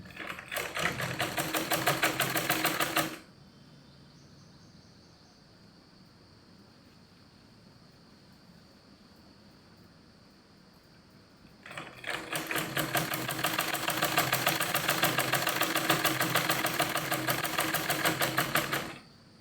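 A sewing machine stitches the cuff of a salwar in two steady, loud runs of rapid rhythmic clatter, separated by a long near-silent pause with only a faint hum.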